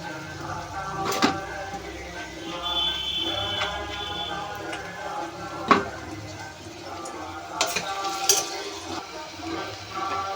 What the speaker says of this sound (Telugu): వెల్లుల్లిపాయలు ఉల్లిపాయలు అయితే ఫ్రై అయిపోతున్నాయి